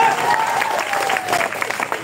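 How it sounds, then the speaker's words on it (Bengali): Dense, loud crowd clapping at a live event with singing and presentations, continuous throughout, with a thin whistle-like tone drifting above it. "একটা জোরে জোরে হাততালি"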